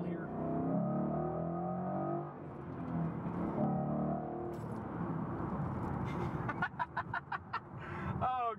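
A 2013 Ford Mustang GT with a V8 pulls hard under acceleration, its engine drone running steadily beneath nearly continuous talk from people in the car, with a burst of rhythmic pulses near the end.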